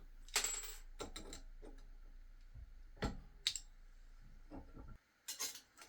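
A steel blade segment snapped off while shaping a kiridashi-style marking knife, giving sharp metallic cracks and clinks in several separate bursts, close and fairly loud with quiet gaps between.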